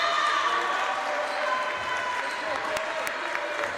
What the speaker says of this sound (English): Gets a big applause from the Pope John bench and the Pope John fans in the stands.